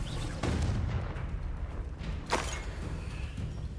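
A Confringo blasting curse in the video game Hogwarts Legacy explodes in two sharp booming blasts, the second louder and crisper, over a low rumbling game background.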